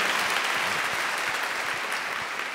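Sustained applause from a church assembly welcoming Irvin Salzman, a Messianic congregation leader from New Jersey, thick and even, easing off slightly toward the end.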